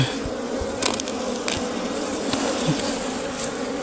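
Honey bees swarm around a wild hive in a coffee plantation, a dense, steady buzzing that fills the whole clip, with a few louder insects passing close by.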